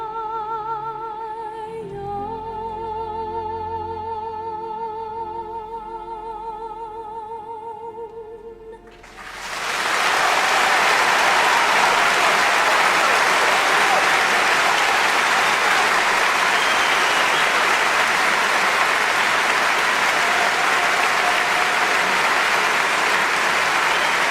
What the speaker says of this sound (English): I'm sure it's just applause to the end.